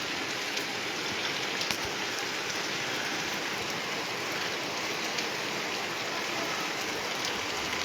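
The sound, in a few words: first monsoon rain in Malwa village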